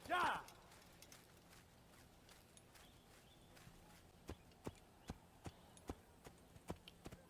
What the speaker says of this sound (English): just moseying along here with my horse